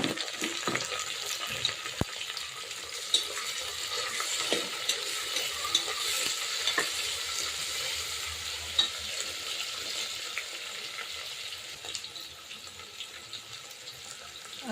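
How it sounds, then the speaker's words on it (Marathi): Tomatoes go into onions frying in oil with curry leaves, making a steady, fairly quiet hiss of sizzling with occasional soft stirring clicks and scrapes, and no talking. "आता मी टाकते टोमॅटो"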